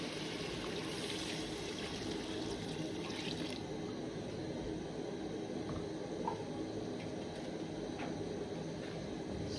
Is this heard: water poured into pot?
yes